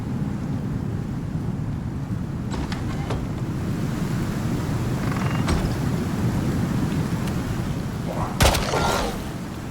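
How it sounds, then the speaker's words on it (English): Thunderstorm and rain in the survival video game Icarus: a steady, dense hiss of rain with wind rumble runs throughout, with a few faint crackles and a sharp, louder crack near the end. "Don't worry about the storm."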